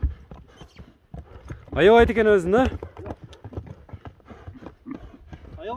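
Hooves of a dark bay horse galloping, rapid uneven clip-clop strikes running throughout, with someone talking over them and a loud horse-like whinny rising in the middle.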